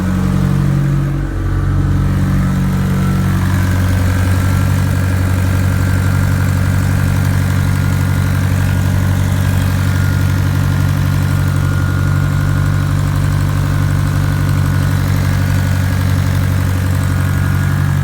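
A Nissan 240SX with a newly installed turbo idles steadily up close, a loud, even engine rumble that settles after a brief early dip and keeps running with no talking.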